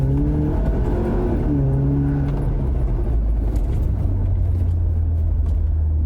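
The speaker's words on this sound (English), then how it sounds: "another quick blast into the pedal here. Let me put my foot down so you guys can get a feel for what this sounds like." A Jeep Wrangler 2.0L turbo fitted with an AFE Mach Force-XP Hi-Tuck cat-back exhaust revs hard under acceleration, a loud, close, rising engine roar and rumble with no talking.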